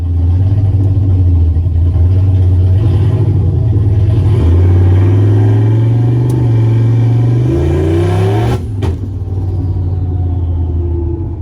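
Boosted car running E85 at full throttle with a 4-port MAC valve boost controller and Holley Terminator, loud engine rumble climbing steadily in pitch before an abrupt stutter as the ignition cut hits, then settling into a lower drone.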